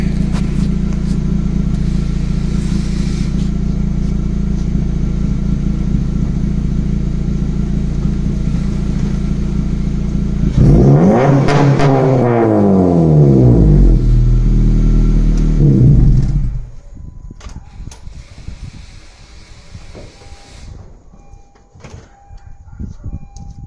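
A 2013 Honda Civic Si with a Tsudo downpipe idles loudly, then revs hard in a rising, falling sweep for several seconds before dropping back to a quieter idle, close up with no talking.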